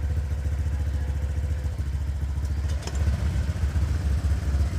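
Stock-exhaust Honda Click 150i version 1 scooter idling nearby, a steady low engine putter with light mechanical clatter, alone with no talk.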